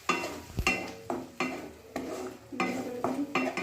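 Spice paste and ground spices are stirred in a pan for an egg dish, with repeated close scraping strokes of a utensil against the metal pan in a steady rhythm and a faint sizzle underneath, no talking.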